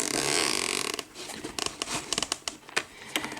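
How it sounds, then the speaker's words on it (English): A zipper on a Steam Deck carrying case is pulled open in a series of short rasping bursts, close and fairly loud, with uneven pauses between the pulls. "What do they call these things where they do the zipper sound?"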